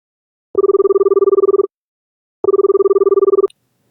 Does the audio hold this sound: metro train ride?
no